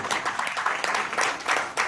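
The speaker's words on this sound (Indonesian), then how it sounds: "kasih tepuk tangan" An audience at a business presentation breaks into applause, a dense, steady wash of many hands clapping at moderate loudness for about two seconds, with no voice above it.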